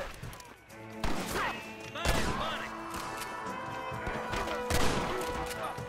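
Several loud gunshots ring out in a video game, spaced about a second apart with heavy thumping impacts, amid busy game sound and shouted voices.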